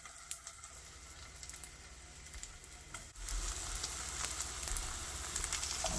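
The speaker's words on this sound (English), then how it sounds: "Okay, now we are going to fry it." Green onion cakes fry in oil in a pan with a steady, soft sizzle that jumps louder and fuller about halfway through and keeps crackling close by, with no talking.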